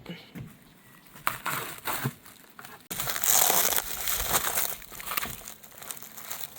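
Scissors snip through plastic packaging on a hydroponic vertical planter kit as it is opened, with crinkling and rustling of the wrapping close by, while a person talks over it.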